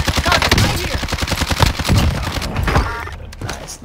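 Rapid bursts of gunfire from a Warzone battle royale match crack close and loud in a dense volley, thinning out toward the end with a few scattered shots.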